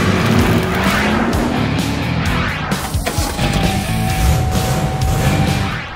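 A brand-new Alfa Romeo Stelvio SUV on a test drive, with a loud, steady engine roar and road noise, tire squeal and a rising whine, heard close throughout.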